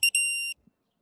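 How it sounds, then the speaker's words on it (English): Two sharp electronic beeps from a digital torque wrench, a brief chirp followed by a longer high-pitched tone, then silence. "It beeps because I'm getting close."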